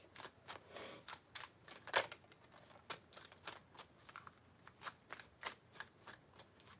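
Tarot cards being shuffled by hand, a quick run of crisp riffling and tapping bursts, close and fairly quiet with no talk.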